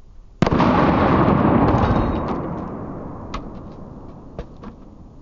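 .45 pistol shot fired at a homemade body armor plate outdoors, one loud sharp blast with a long rolling echo that fades, followed by a couple of faint distant pops.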